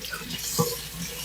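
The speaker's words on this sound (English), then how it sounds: "I gotta rinse my hands out." A kitchen tap runs steadily while hands are rinsed, a close, continuous splashing hiss of water with no talk.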